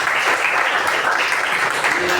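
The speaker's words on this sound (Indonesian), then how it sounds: "Tepuk tangan dulu." Classroom applause from students during a lesson on norms, rights and duties, a steady dense patter of many hands filling the whole short moment, with some voices mixed in.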